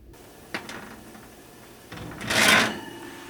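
Baking sheets of buckwheat groats go into an oven: a metal clunk, a pause, then the oven door swings shut with a loud scraping creak and thud, close by, no talking.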